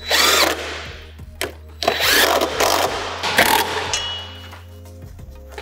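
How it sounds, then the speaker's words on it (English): A power tool whines and revs in short bursts while fitting a muffler on a car, stopping and starting several times, loud and close with a low motor hum underneath. "Power tools."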